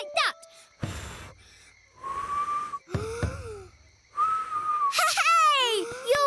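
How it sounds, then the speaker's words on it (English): Raa Raa the cartoon lion manages two steady, held whistle notes, each lasting under a second, between bursts of animated character voices and squeals. "Hey! You're whistling!"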